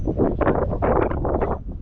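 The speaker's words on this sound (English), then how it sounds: "It's really windy." Strong wind buffets the microphone outdoors beside a bass boat under repair, a steady loud rumble and roar with gusty swells and no talking.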